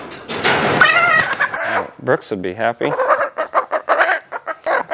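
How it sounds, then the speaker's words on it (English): Backyard chickens fed in a pasture, their clucks and excited calls close and loud, mixed in with a person talking over the flock. "Look at all the chickens."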